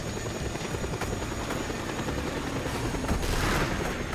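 Attack helicopter in the video game Just Cause 2, its rotor thumping loudly and continuously while bursts of gunfire crackle over it.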